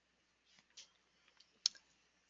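Computer mouse clicks during an online training webinar, a few faint, sharp taps spaced apart with one louder click near the end, in an otherwise quiet room.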